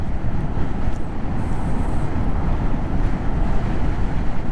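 A Zero SR/F electric motorcycle on the move, heard mostly as loud, steady buffeting wind rush across the microphone with a faint whine and no engine note.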